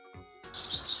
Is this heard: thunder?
no